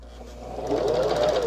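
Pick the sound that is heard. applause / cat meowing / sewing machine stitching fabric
sewing machine stitching fabric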